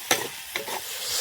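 Food being stirred in a frying pan at home, two distinct scraping stirs over a steady soft sizzle, close by with no talking.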